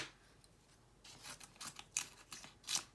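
Wide adhesive tape pulled off a roll and torn while crafting a DIY rain shaker, heard as a string of close, sharp ripping and crackling bursts after a quiet start, with no talking.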